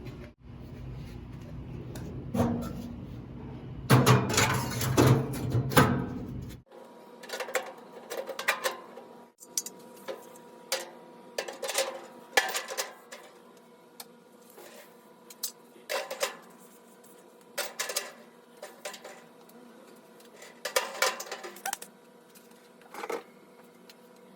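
Parts of a Weber SmokeFire EX4 pellet grill being fitted back together, with irregular metallic clanks, taps and light rattles close by, some louder knocks early on and then scattered softer clinks.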